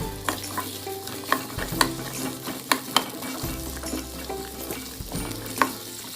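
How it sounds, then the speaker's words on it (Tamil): Small shallots sauté in hot ghee in a pan, with a steady close sizzle and repeated scraping stirs of a spoon against the metal. "சின்ன வெங்காயத்தை போட்டுருங்க. போட்டு நல்லா வதக்கி விடுங்க."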